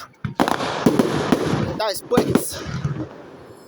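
Fireworks show in Pacy, France, with loud close bursts and crackling shells going off in an irregular series, several sharp booms and whistling rockets, while spectators talk and exclaim between blasts.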